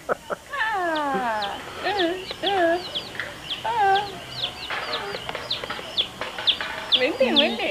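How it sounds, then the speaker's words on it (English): A small chicken clucking and squawking in repeated short calls close to the microphone, with people talking quietly in the background. "Oh, the little chicken."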